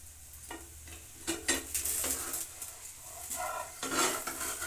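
A dosa fries in a spoonful of oil in a pan, with a soft sizzle and a few close scraping and spatula strokes as it is worked and turned, with no talking.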